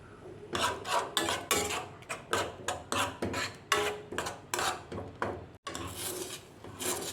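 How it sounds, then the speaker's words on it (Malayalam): Puttu mix and oil being stirred in a pan on the stove, a spoon scraping and rubbing in rhythmic strokes, roughly a dozen rasping sweeps with one brief pause, close and moderately loud, no talking. "അതിലേക്ക് കുറച്ച് എണ്ണ കൂടി നമുക്ക് ആഡ് ചെയ്ത് കൊടുക്കുക. എന്നിട്ട് നന്നായിട്ട് ഒന്ന് ഇളക്കി കൊടുക്കാം."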